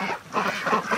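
Muddy farm ducks quack in loud, repeated bursts close by, several calls overlapping in a rough, continuous chorus.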